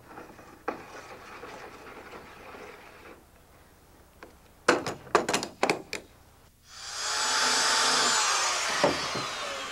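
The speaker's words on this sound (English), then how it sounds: "we'll bring in our filler cap and just screw it down" Work on a Cobra kit car, where the filler cap is brought in and screwed down, gives a cluster of sharp clicks and clatters followed by a loud, steady whooshing hiss.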